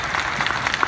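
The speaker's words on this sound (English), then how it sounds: "Yes, please clap for her." Applause from a comic convention Q&A audience, a short burst of steady clapping heard at moderate level.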